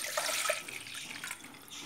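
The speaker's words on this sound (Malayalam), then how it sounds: "ഞാൻ ഒരു പാത്രം എടുത്ത് അതിലൂടെ ഞാൻ ഒരു കപ്പ് വെള്ളം ഒഴിച്ചു കൊടുക്കുവാണേ" A cup of water is poured into a pan while making tea, giving a short splashy stream of liquid that stays close and clear with no talk.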